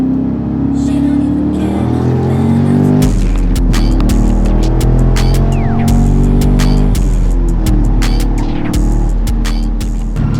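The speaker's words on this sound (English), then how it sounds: "I'm just gonna get this Cadillac started up and rip it over to his place" A Cadillac engine cranks and catches, then settles into a loud, steady idle with a deep throbbing hum and some clicks and rattles nearby.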